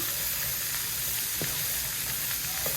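Celery and other vegetables sizzling in a pot as they cook down, a bright steady hiss with occasional light pops and stirring taps, near and uninterrupted.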